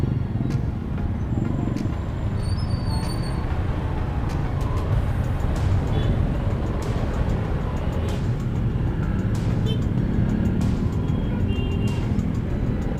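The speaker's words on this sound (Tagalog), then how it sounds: "ayan dito palang traffic na" Steady road traffic on EDSA rumbles around a moving motorbike, a continuous low drone of engines with wind noise and occasional sharper clicks, loud and unbroken throughout.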